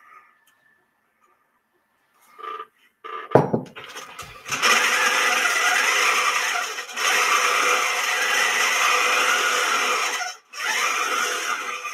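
A sewing machine stitches flexible feather quilting along a quilt spine: a few handling clicks, then a loud, steady mechanical whir that runs on with one brief pause.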